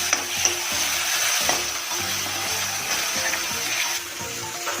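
Mutton curry in a pot stirred after the lid comes off, a dense steady sizzle with rhythmic scraping and knocking of a spoon against the pot, close and loud, with no talking.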